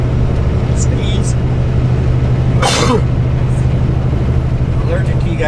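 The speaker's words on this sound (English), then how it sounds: "Sneeze." A short, sharp sneeze bursts out partway through, heard over a steady low rumble of road or engine noise.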